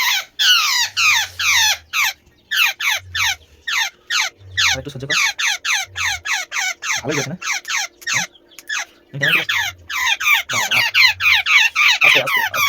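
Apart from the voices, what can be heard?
bird tangled in a field net, squawking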